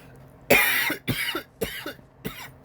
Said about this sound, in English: I have a little bit of indigestion and it's causing me to cough.